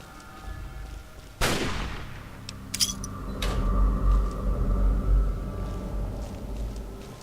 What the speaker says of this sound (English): Sounds like a hunting rifle.